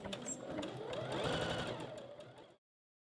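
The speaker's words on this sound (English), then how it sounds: "carry on sewing on the other side" A sewing machine stitches a bra seam in a steady, continuous run of close, rapid stitching for about two and a half seconds, then stops abruptly into silence.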